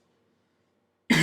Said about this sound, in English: Sorry if I cough, I have a cold at the moment.